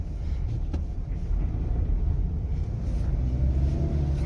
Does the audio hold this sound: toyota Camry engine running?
yes